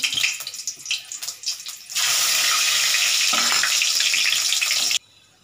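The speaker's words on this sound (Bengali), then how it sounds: "এবার এটা আমি তেলের মধ্যে দেবো।" Whole dried chillies, cardamom, cinnamon and cloves drop into hot oil and burst into a loud, steady sizzle that holds for about three seconds. Before that, soft handling sounds come from the pan. The frying then cuts off abruptly.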